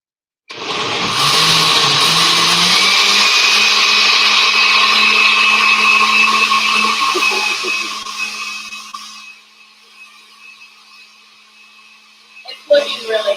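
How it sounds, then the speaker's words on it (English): A blender purees butternut squash soup, starting abruptly with a loud steady whir that holds for several seconds, then winds down and fades to near quiet before a few clattering knocks at the end. "here we go, blender dance."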